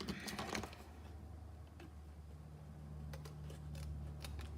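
Scissors snip through a flower stem a few times in quick succession at close range, crisp cuts early on and a couple more later, over a low steady hum with no talk.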